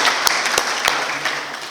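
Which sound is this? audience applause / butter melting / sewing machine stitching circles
audience applause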